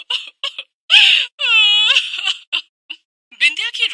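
A woman cries loudly in a cartoon story, with high wailing sobs broken up by short gasps and whimpers and a few rising, quavering cries, close and alone.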